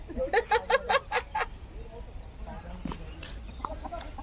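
Chickens in a Sundarbans village yard cluck in a quick burst of about half a dozen calls at the start, then quieter rustling and faint background chatter.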